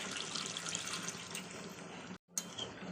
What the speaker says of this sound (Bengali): তো চলুন জলটাকে দিয়ে দিই। তো দিয়ে দেবো অল্প পরিমাণ জল